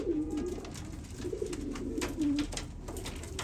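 Fantail pigeons coo softly and repeatedly in low, rolling murmurs, set against a steady background hiss.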